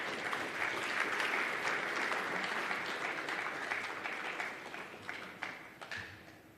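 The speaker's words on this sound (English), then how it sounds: "Another round of applause, ladies and gentlemen, for Dr. Frank." A conference audience at a foundation summit gives a round of applause, steady clapping from a large room that thins out toward the end with a few scattered claps.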